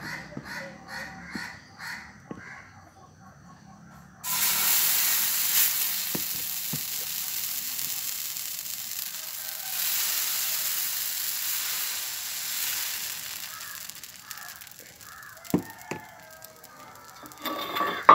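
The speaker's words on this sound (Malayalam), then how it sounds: "നമുക്കിതിലോട്ട് മാവ് ഒഴിച്ചു കൊടുക്കാം." Dosa batter poured onto a hot, oiled stone griddle bursts into a loud, steady sizzle a few seconds in. Before that there are quieter kitchen clinks, and crows caw faintly outdoors throughout.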